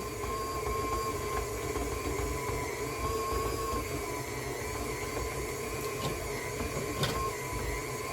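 A stand mixer kneads honey wheat bread dough with a dough hook, giving a steady, continuous motor whir and hum at an even level with a faint knock or two.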